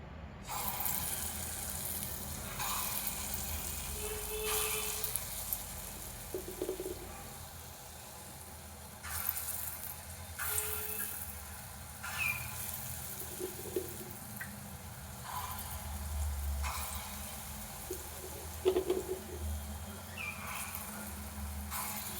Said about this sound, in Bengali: কড়াইতে তেল গরম করতে দিয়েছি, বড়াগুলো ভেজে নেবো এক এক করে।